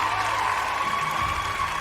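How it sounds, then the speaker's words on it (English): Audience applause at an awards ceremony, a dense, steady clatter of many hands clapping in a hall for the whole stretch, loud and continuous. "Can we have a huge round of applause"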